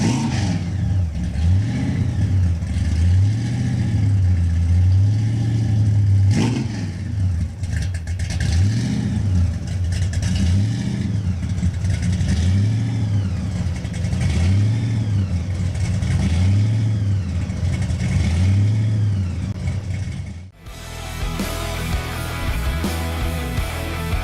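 A car engine idles and revs repeatedly at a charity car show, with deep rhythmic rising and falling rumbles close by, ending abruptly in a different steady noise.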